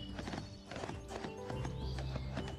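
Hooves clip-clop in quick uneven steps in the Barbie: Wild Horse Rescue video game, with a short whinny near the start, faint and game-like and without talk.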